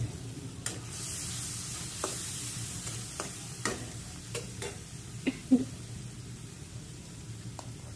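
Dried shrimp (chingri shutki) frying with tomato in a pan gives a steady soft sizzle, with scattered clicks and scrapes of stirring and a couple of sharper utensil taps.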